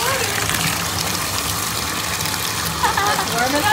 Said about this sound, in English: Put him under the water.